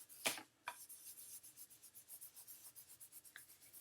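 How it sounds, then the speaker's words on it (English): A cloth buffs ink off an embossed stamped card background in quick, quiet rhythmic rubbing strokes, a soft scratchy swish that repeats evenly and close up, after a couple of louder opening handling sounds. "I'm going to take a cloth and I'm going to do a little buffing to get the ink off of the embossing"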